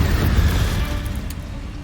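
A Confringo fire spell explodes in Hogwarts Legacy, a single deep, rumbling burst that hits hard at the start and then decays into a fading roar.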